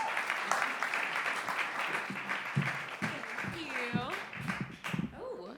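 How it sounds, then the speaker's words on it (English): Audience applause for a comedian at a stand-up show, a steady wash of clapping from a crowd with voices talking over it toward the end. "give a huge round of applause for Justine Hipsky."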